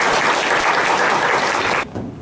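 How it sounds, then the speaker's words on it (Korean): Audience applauding at a startup pitch forum, a broad, loud sustained clapping that fills the room and then drops off sharply near the end. "큰 박수 부탁드리겠습니다"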